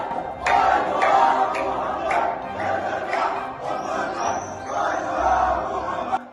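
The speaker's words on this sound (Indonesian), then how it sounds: "dari dalam Masjid Al-Aqsa terdengar suara orang-orang meneriakkan yel-yel" Crowd of people shouting chants inside Al-Aqsa Mosque, a dense wall of voices rising and falling in surges over reverberant background noise.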